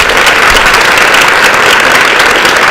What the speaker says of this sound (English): let's go ahead and give our panelists a big round of applause